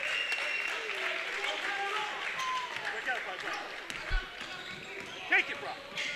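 Scattered claps ring around a high school boys' basketball gymnasium for a player's milestone, mixed with crowd murmur, sneaker squeaks and a couple of ball bounces, with a commentator talking over it.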